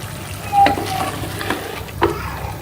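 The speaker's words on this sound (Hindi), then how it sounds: "4 से 5 मिनट हम दही के साथ चिकन को जो है वो अच्छी तरह से भून लेंगे घी ऊपर आने तक" Chicken being fried with yogurt in ghee over high heat, a dense bubbling sizzle with a couple of louder stirring scrapes, near and fairly loud, no voices.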